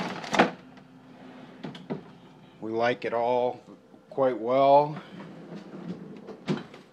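A refrigerator's freezer drawers and doors slide and thump open and shut in several close knocks and rattles, while a person talks quietly between them.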